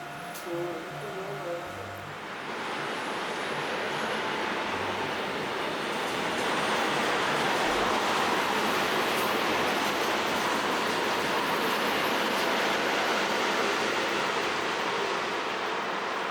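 A Line 1 local passenger train runs along newly laid track, giving a steady, loud rolling rumble with broadband rail noise that builds after a quieter start and continues without a break.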